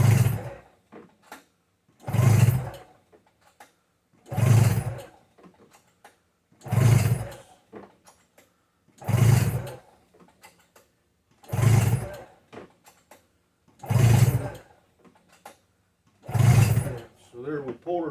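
A 2-stroke snowmobile engine with its spark plugs removed is pull-cranked eight times in a steady rhythm, each pull giving a whirring, chugging burst separated by brief quiet gaps.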